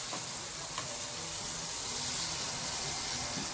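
Fish frying in hot oil gives a steady, continuous sizzle and hiss, close and even throughout, with no voices.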